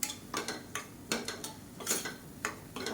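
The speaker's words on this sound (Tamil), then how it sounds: "இப்போ இதையும் எண்ணெயில் நல்லா பரட்டி விட்டுக்கலாம்" Curry masala being stirred in oil in a pan for bachelor-style chicken sukka, with a spoon scraping and clinking against the metal in irregular taps and strokes, close and moderately loud, no voices.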